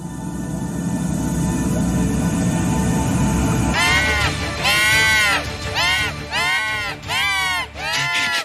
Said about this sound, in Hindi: ये बुरी तरह से चीख रहा था।